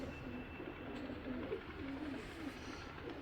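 Soft, low coos from Hazar-breed pigeons repeat in a gentle rhythm over a faint steady background hum, fairly distant and quiet.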